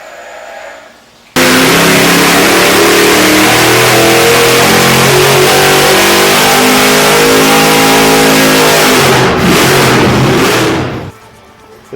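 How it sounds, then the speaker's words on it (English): A Nelson Racing 1150-horsepower street car engine, making 1150 horsepower at 18 psi, roars loud and close in one long sustained rev. It holds high for about ten seconds, then cuts off sharply, with brief quieter engine sound before and after. "This is what you need for a Nelson engine on a street car."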